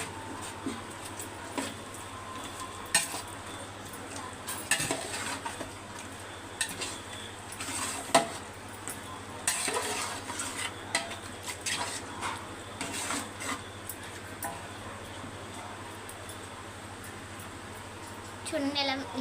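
A spoon scrapes and clatters through a curry mixture in a pan, giving irregular soft knocks and stirring scrapes over a low steady hum, with occasional speech.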